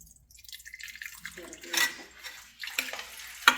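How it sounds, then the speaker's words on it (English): Water pours from a pot-filler spigot mounted over a kitchen stove, running and splashing into a pot in short, uneven bursts that grow louder toward the end, with a sharp splash at the close. "I'm able to take my water spigot, not over in the sink, but over the stove,"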